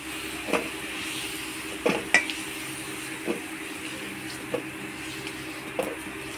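Potatoes frying in oil make a soft, even sizzle, broken by several sharp metallic taps and scrapes of a spatula against the pan.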